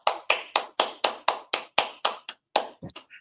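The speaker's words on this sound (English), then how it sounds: "The loudest clap comes from the executive officer." A single person claps at a commission meeting, about a dozen sharp, close hand claps in a steady brisk rhythm, with a short pause before a final few quicker claps.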